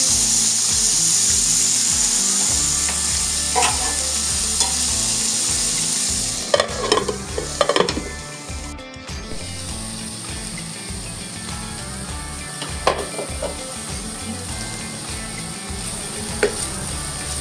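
Barbecue chicken cooking covered over a low flame, giving a steady, dense sizzle and frying crackle throughout, with a few sharp clinks and taps breaking through.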